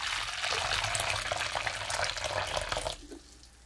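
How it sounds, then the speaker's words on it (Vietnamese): Boiling water pours steadily into a bowl as a close, dense splashing rush that cuts off abruptly near the end. "Đầu tiên mình cho nước sôi vào thố"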